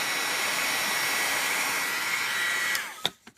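A heat embossing tool blows a loud, steady whooshing hum close by while melting embossing powder, then switches off with a few sharp clicks and knocks.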